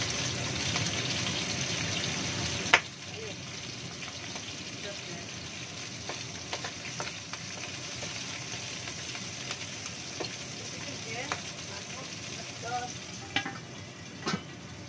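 Tofu and salted fish frying briefly in hot oil for a lodeh, giving a steady broadband sizzle with stirring clinks and a sharp knock near the start.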